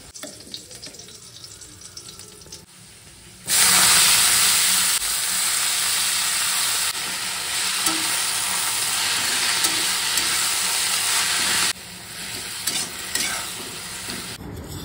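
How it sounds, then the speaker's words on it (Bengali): Potatoes fry in a pan with a loud, steady hiss that starts suddenly, holds for several seconds, then drops off. Quieter kitchen clatter comes before and after, and no one speaks. "এদিকে আলু ভাজাটা হচ্ছে আর এদিকে শাক ভাজাটা হবে"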